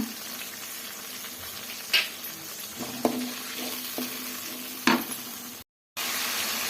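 Puliogare mixture stirred in a pan, the spoon giving a few sharp scrapes and knocks over a steady low sizzle, close by with no talking, and a brief dropout near the end.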